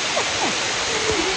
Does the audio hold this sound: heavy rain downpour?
yes